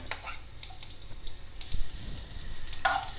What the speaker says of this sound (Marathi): ते सुद्धा थोडेसे तेलात तळले जातील